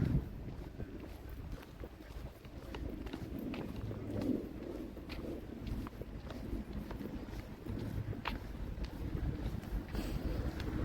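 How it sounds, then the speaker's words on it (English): Wind buffets a microphone on the ocean side in Edinburgh, Scotland, as a continuous low rumbling roar with gusty swells throughout. "it's so breezy here"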